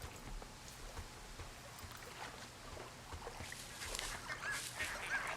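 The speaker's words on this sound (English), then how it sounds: "I hear ducks." Ducks in the Firewatch game: faint quacking and honking calls rise toward the end over soft outdoor ambience and splashing water.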